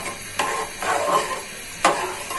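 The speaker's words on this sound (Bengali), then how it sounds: "এখানে নেড়ে চেড়ে ভালো করে সিদ্ধ হওয়ার জন্য রেখে দিব" Khichuri with red chilli powder being stirred in a cooking pot, a few close scraping sweeps of the spoon against the pot over a faint background, no talking.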